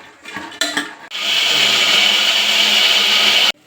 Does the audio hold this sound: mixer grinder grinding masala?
yes